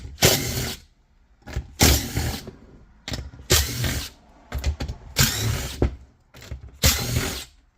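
A small 7 mm metric bolt being removed from a Gen V LT engine with a ratchet or power tool, several loud repeated bursts of whirring mechanical noise separated by brief pauses, close up.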